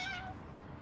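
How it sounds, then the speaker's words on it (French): A cat gives a single faint, drawn-out meow on a city street, fading after a moment into low ambient background noise. "Les chats sont partout, partout, partout dans la ville."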